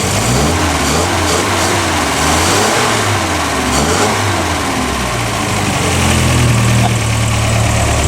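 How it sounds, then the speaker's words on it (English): A restored classic car with a loud exhaust idles and then revs several times, its pitch rising and falling in waves before it settles into a steady, louder drone toward the end. "A little bit of a rev. Exhaust pipe is a little bit loud."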